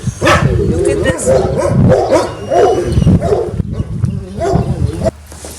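Dogs at a stray dog rescue bark and yip close by in repeated bursts, with whimpers between them and people talking over the commotion throughout.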